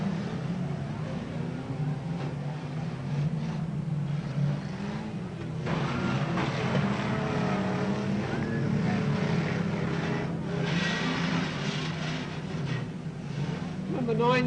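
Super sedan race cars roar around the Newcastle Motordrome oval, a continuous engine drone heard from a distance under wind noise, with a commentator talking over it throughout.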